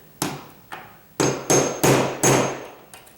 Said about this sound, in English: you're going to use your nail set to tap that